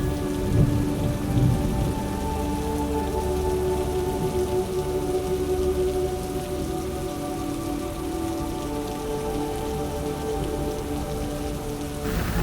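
Monsoon rain pours steadily in the Darjeeling hills, heard from shelter inside a ropeway car as a constant dense patter on surfaces, with no voices.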